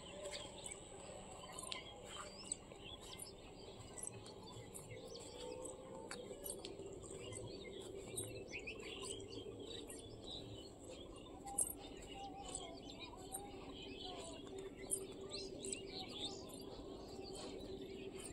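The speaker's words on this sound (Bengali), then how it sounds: "দেখো পাখিদের কলরব" Many kinds of birds calling outdoors on a breezy overcast evening, a faint mix of chirps and tweets scattered over a soft wind background, distant and continuous.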